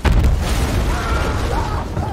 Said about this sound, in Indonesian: Tiba-tiba seorang prajurit bergerak keluar sehingga tubuhnya terkena ledakan bom